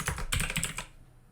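Rapid keyboard typing, a quick run of close clicky keystrokes with a short pause, then stopping abruptly into quiet.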